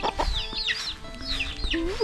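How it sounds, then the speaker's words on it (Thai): Chickens cluck and squawk close by on a rural farm in cool weather, several short calls in quick succession over a low background hum. "สิพาพี่น้องมาเบิ่งเป็ดกับไก่เนาะ"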